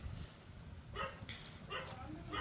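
A small dog barks outdoors in several sharp yaps scattered across a couple of seconds, heard at moderate distance over background hum and a faint voice.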